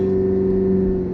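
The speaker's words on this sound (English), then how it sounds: "I'm going to put it in neutral once we get onto the property, and then I'm going to rev it" A McLaren P1's 3.8-liter twin-turbo V8 revs in neutral, a loud, close, steady engine tone holding high without pause.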